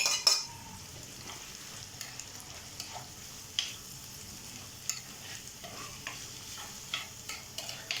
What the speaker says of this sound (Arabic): غادي نزيد هاد البصله هذه وحتى هي غادي نخليها تقلى حتى تبدا تدبال شويه